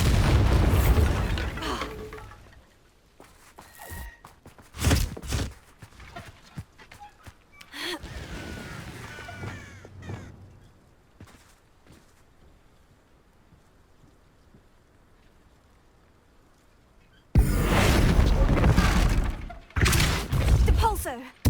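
Bombarda blasting spell in Hogwarts Legacy, a wizarding combat game: several loud, sharp blasts and bursts come in uneven clusters with quieter rumbling gaps between them, ending in a strong final pair of impacts.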